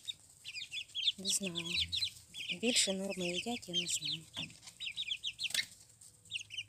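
Motherless chicks being fed, with high, rapid cheeping and peeping in dense bursts close by, while someone speaks over them.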